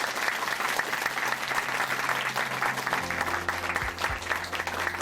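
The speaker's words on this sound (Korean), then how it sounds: "다시 한번 큰 박수 보내드리겠습니다." A church congregation in Chuncheon applauds in a steady, full wash of many hands, with a low hum running beneath.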